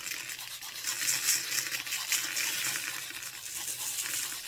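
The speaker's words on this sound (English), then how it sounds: "We're going to take our Epsom salt and give it the good old shaky shake." Epsom salt shaken from a container onto glass for a frosted effect, a dense rapid rattling hiss in quick bursts, close up and fairly steady for a few seconds, no talking.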